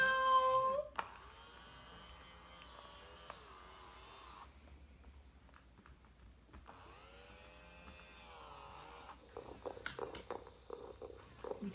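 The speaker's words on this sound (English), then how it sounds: "it just makes it feel like she's actually purring when she's making the noise" A Joy for All therapy robot cat makes soft electronic purring and meow-like tones from its vibrating chest, faint and close, in warbling stretches separated by quiet gaps, with small handling noises at the end.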